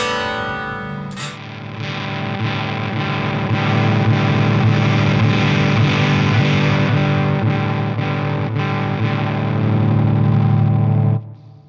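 Warm Audio Dirty Boy Jr fuzz pedal on a guitar, with the level being turned down: a thick, distorted fuzz tone sustains steadily and loudly, with repeated strums, then cuts off abruptly near the end.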